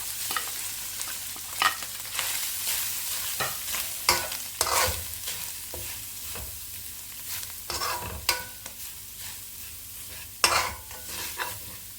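Chicken sizzles and crackles in a hot pan for Chinese chicken corn soup, with intermittent scraping and stirring clatters over a steady frying hiss.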